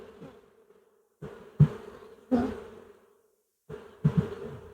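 Steady buzzing of many honeybees close by at an open hive, a continuous drone that swells in several louder bursts with brief quieter gaps between.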